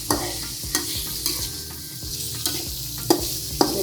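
Chicken liver and gizzard sambal sizzles steadily in a pan while a utensil stirs and scrapes it, giving about eight distinct knocking strokes against a constant close frying hiss.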